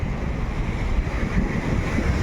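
Ocean waves rolling onto the shore at Patong Beach in Phuket, a continuous loud rushing wash mixed with strong wind noise buffeting the microphone.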